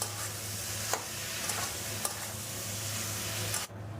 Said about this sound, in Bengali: ইঁচড়টা মশলার সাথে ভালো করে কষিয়ে নেব। মাঝের মধ্যে একটু নেড়ে চেড়ে দেবে